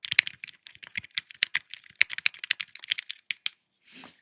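Typing on a ZSA Voyager keyboard with non-silent switches: a brisk, close run of sharp, clacky keystrokes that stops, followed by a short soft rustle.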